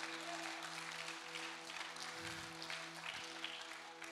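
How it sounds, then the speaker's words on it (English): Steady, continuous clapping from a church congregation at a Sunday baptism service, fairly quiet and even throughout, with no voices standing out. "You can clap for that."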